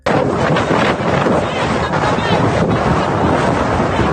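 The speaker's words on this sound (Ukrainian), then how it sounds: "Потужний шторм та потоп у тимчасово окупованому Криму." Powerful storm wind and surf roar along the Black Sea coast of Crimea during a flood, a loud, unbroken wash of gusting air and crashing water with heavy wind buffeting on the microphone.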